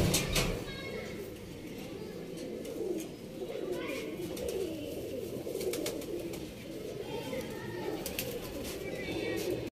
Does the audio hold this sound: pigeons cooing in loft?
yes